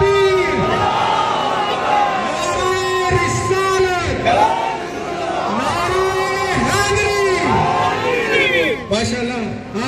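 Large crowd loudly chanting a religious slogan in unison, repeated rhythmic shouted calls and responses that swell and fall, close and dense throughout.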